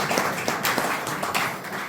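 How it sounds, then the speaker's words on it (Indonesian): Audience applause at a Christian business fellowship Q&A gathering, a steady patter of many hands clapping together, moderately loud and dense without voices over it. "We have to give a round of applause"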